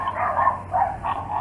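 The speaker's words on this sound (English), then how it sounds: "And there's the dog we're trying to silence." A neighbor's dog barks in loud, repeated, strained yaps that come in quick overlapping bursts, close and continuous with no pause and no voices.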